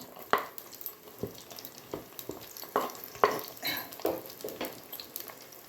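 Onions frying in oil with cinnamon and cloves for Ambur-style biryani, a quiet sizzle broken by intermittent clinks and scrapes of a spoon stirring in the pan.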